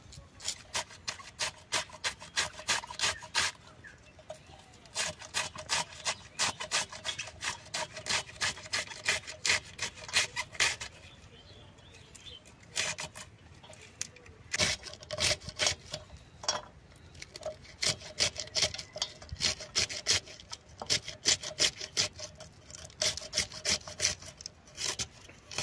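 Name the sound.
cutting cabbage with a knife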